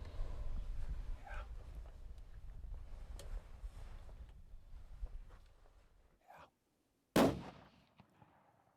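A rifle shot during an elk hunt in New Mexico: a low rumble of outdoor background noise, a short silence, then a single loud, sharp gunshot followed by a brief decaying tail.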